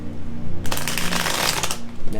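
Tarot cards shuffled in a quick riffling burst lasting about a second, close and crisp, over a low background hum.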